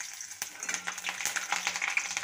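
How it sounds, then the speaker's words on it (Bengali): Black cumin seeds and slit green chillies crackle in hot oil in a Bengali kitchen, a bright, close sizzle with sharp pops and occasional stirring scrapes. "এবার ফোড়নের জন্য আমি দিয়ে দিচ্ছি সামান্য পরিমাণে কালো জিরে আর 4টে চেরা কাঁচা লঙ্কা।"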